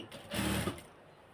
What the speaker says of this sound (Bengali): তারপরে এখানে ধরে আমি একটা সেলাই দিয়ে দিচ্ছি।